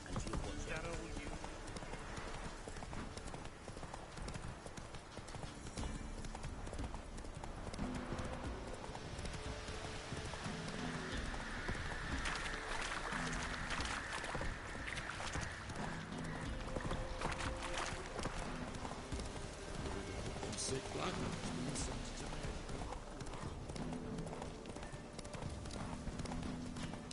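Roach the horse galloping in The Witcher 3, hooves clip-clopping in a steady rapid rhythm under continuous game noise and music, with a voice talking over it.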